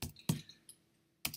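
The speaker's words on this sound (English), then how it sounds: "I'm going to type in some text" A handful of separate key presses on a computer keyboard while text is entered in page-layout software, spaced apart with pauses, close and moderately loud, no speech.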